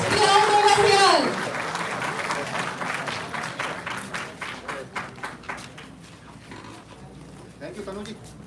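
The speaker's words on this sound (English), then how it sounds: "तालियां रुकनी नहीं चाहिए बच्चों" Students in an engineering institute audience applaud at an HR conclave panel, a loud burst of clapping that thins into scattered claps, with a voice speaking over it near the start.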